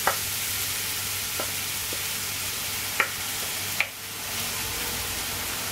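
Crumbled idli tipped into a pan of sautéed carrots for idli upma, a soft steady sizzle running throughout with a few light scrapes and taps of the spoon, no voices.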